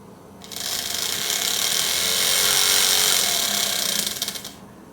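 A small 3-pole DC permanent magnet motor runs in reverse, giving a close, steady high-pitched whir that rises to full speed, holds for a few seconds, then stops.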